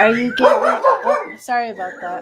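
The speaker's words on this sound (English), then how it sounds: "Sorry about my dog." An indoor dog barks a few times, with short sharp yaps mixed into a person talking nearby.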